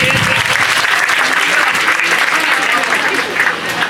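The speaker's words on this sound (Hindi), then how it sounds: "एक बार जोरदार ताली इस बच्चे के लिए।" Loud, sustained applause from a crowd at a Teachers' Day school celebration, dense clapping for a student that carries on evenly for several seconds before easing slightly.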